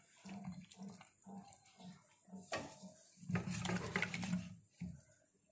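Ingredients for a meat curry are stirred together with a little hot water in a pot, giving faint, rhythmic wet scraping and sloshing strokes at close range.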